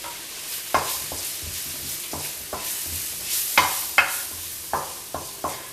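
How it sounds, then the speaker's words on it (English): A spoon scrapes and stirs a flour-thickened sauce for chicken pot pie in a pan, with a soft sizzle underneath and several sharp scraping strokes at an uneven rhythm, close and alone without voices. "And of course stir it up, and then you're going to continue stirring that for about a minute."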